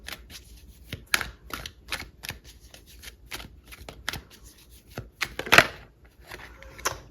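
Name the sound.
tarot cards being shuffled and pulled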